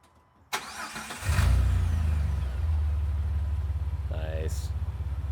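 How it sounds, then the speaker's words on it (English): A Jeep Wrangler LJ with a newly fitted MBRP exhaust starts for the first time: a sharp crank, then the engine catches and settles into a steady, throaty idle nearby, with a brief voice near the end. "Alrighty, so first startup with the MBRP exhaust."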